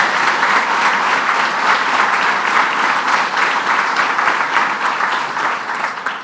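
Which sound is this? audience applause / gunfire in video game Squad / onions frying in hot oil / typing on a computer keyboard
audience applause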